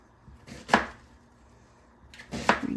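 An onion is chopped with a knife on a board for chili: two separate crisp cutting strikes, a couple of seconds apart, close and fairly loud, with quiet between them.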